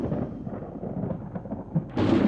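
Thunder in a windy storm rolls as a low, dense rumble that holds steady, then swells into a louder crack near the end, with no voices over it.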